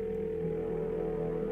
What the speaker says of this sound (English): Okay, let's call our friend Bess.